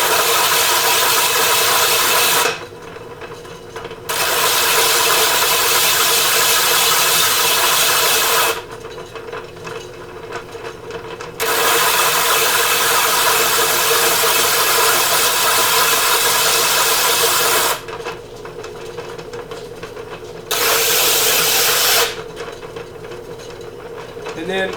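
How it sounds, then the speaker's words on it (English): Grinding the edge of a porcelain ceramic piece on a pottery wheel, a loud steady whirring grind broken by several short pauses where the tool lifts off, then resuming, with no voices. "it allows me to take and grind the edge"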